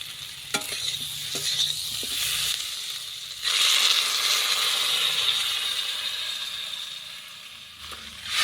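Water poured into a pan of frying potatoes and spices brings a sudden loud hiss and sizzle that slowly fades, preceded by faint stirring scrapes and a few clinks.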